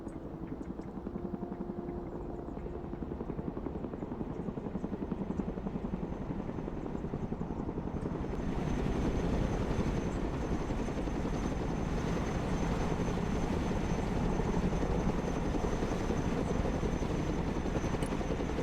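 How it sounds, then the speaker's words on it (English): A helicopter in the video game Broken Arrow gives a steady rotor drone and engine whine, swelling louder partway through and then holding a constant, close roar. "Let's go and recover it with our helicopter."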